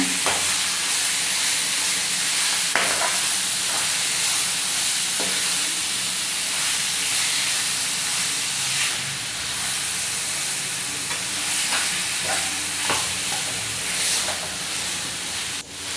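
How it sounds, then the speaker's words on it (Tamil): Chicken pieces fry with sautéed onions in a pan, giving a loud continuous sizzle and hiss broken by occasional scraping stirs. "சிக்கன் எல்லாத்தையும் சேர்த்ததுக்கப்புறம் நல்லா கிளவி விட்டுருங்க"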